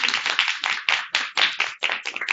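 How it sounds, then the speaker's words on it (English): Short burst of applause from a small audience at a criminal justice panel event, a few separate claps audible within a brief, uneven patter that rises and dips. "Let's give a round of applause for our"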